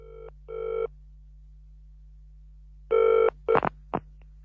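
A telephone at a city police station gives two short electronic rings, then after a pause another ring followed by brief clicks of the receiver being picked up, clear and close over a steady low hum.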